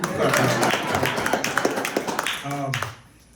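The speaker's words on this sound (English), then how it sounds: "Yeah, you can clap." A live audience at a spoken word event in a gallery gives a short burst of clapping, dense and close, fading out as a voice begins speaking.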